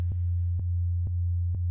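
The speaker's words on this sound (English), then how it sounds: "select sine wave. I'm just going to quickly listen to it, soloed" A pure sine wave from a synthesizer plays soloed in a house and techno mix, a steady, loud low bass tone with faint clicks at regular intervals as notes retrigger.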